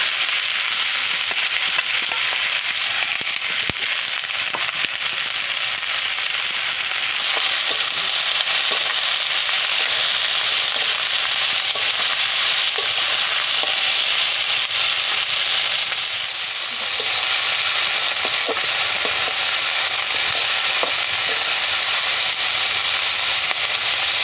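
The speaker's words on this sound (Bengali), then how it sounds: "এবার পেঁয়াজগুলোকে ভেজে নেব।" Onions sizzle in hot oil seasoned with dried red chilli and five-spice, a steady, dense crackling hiss that runs continuously and evenly throughout, close and fairly loud with no talking.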